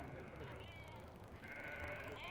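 Sheep grazing on southern chalk downland bleat in a short, steady wavering call that rises twice over a constant busy background.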